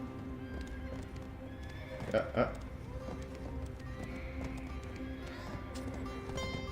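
A horse in the Black Desert video game trots with rhythmic hoof clip-clops and a brief whinny, moderately quiet under steady background game sound, with someone speaking briefly.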